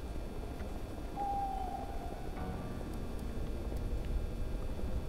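An owl hoots once, faint and drawn out, at night in a video game over a steady hiss of ambient noise. A few soft ticks follow later.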